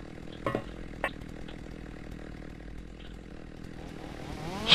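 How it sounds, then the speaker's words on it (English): A chainsaw in the horror video game Slendytubbies 2 drones steadily at a moderate, somewhat distant level, with a few short knocks early on and a swelling surge of sound at the very end. "He's got a chainsaw!"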